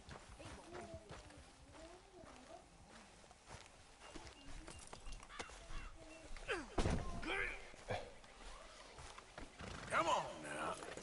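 Horse hooves clip-clopping in a video game, soft and fairly distant, mixed with faint thuds and a couple of louder bumps, while characters talk throughout.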